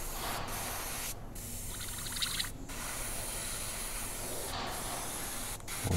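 An AirCobra airbrush by Mig Jimenez sprays out cleaning fluid to flush out paint, a steady close hiss in several bursts broken by short pauses, with no voices.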